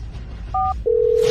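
Telephone keypad dialing tones: a short dual-tone key beep followed by a steady, loud single tone running to the end, with no voices over it.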